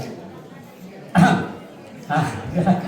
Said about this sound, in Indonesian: Saya aja yang batuk benar-benar.